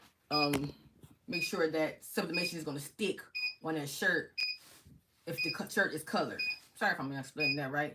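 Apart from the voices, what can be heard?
heat press beeping when ready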